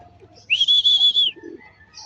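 A single clear, whistled bird call rings out, a smooth sustained note lasting under a second against a quiet background.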